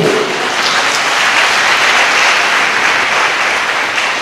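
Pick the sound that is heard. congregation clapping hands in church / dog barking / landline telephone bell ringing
congregation clapping hands in church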